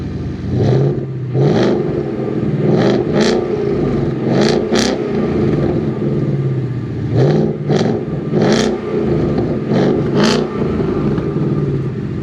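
A cold Ford Mustang GT 5.0 V8 imported from the USA idles with a deep, loud burbling exhaust, broken by several short throttle blips that rise and fall in quick pairs, heard up close and alone.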